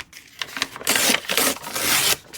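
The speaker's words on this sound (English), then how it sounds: "I love tearing paper. I love the sound of it." Paper torn along a metal ruler for a junk journal page gives several close, rasping rips in quick bursts, ending in one longer sustained tear.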